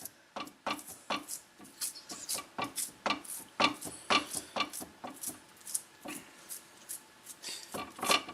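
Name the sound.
pressing a meat patty mixture into a pan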